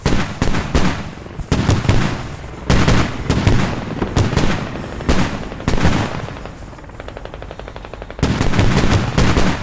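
Rapid bursts of automatic gunfire from an armored vehicle combat video game, loud dense volleys repeating with brief pauses between them.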